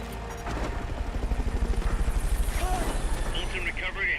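A Fulton recovery helicopter in Metal Gear Solid: Peace Walker arrives, its rotor settling into a rapid, steady, throbbing chop that stays loud and close, with higher game sounds chirping near the end.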